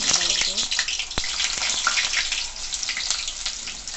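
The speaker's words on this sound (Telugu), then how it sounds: "ఇది ఎర్రగా అయ్యేంత వరకు వేయించుకోవాలండి" Battered ridge gourd pieces fry in hot oil with a steady, dense sizzle and crackle, close and continuous throughout, with a few brief clinks near the start.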